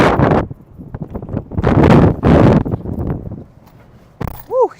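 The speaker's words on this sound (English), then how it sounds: "as you can probably hear, the wind is absolutely cranking, sustained 20 to 30 miles an hour right now" Strong outdoor wind, sustained around 20 to 30 mph during tornado weather, hits the microphone in loud surging gusts separated by brief lulls, with a short whistling tone near the end.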